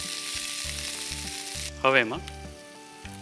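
Cumin, chopped green chilli and ginger paste fry in hot oil with a steady sizzle, and a short spoken phrase sits over the crackle midway.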